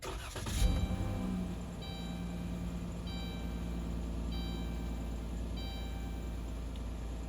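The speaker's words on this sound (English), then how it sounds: "I gotta turn the car back on." Car engine being turned back on: a short starter burst near the start settles into a steady idling hum, with a faint chime repeating every second or so.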